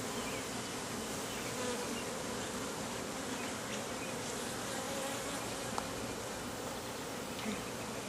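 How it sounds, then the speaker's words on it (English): Honey bees buzz steadily and close throughout a beehive inspection, a dense continuous drone with no talk over it. "There's a bee right there that has yellow legs."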